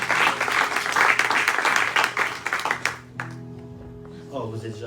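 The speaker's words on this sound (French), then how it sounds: "est-ce qu'on peut les applaudir?" A church congregation at a Sunday service breaks into loud, dense clapping for about three seconds. It then fades quickly, leaving soft tonal music and a voice in the background.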